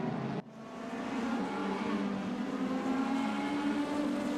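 Mercedes AMG C63 race cars, a classic model and a modern one, roar past in a RaceRoom DTM racing game, with a steady loud engine drone and a high whine that continue after a brief dip near the start.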